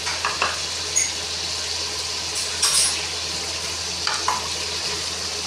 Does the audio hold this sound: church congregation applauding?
no